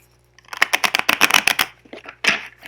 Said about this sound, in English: I shuffled these cards before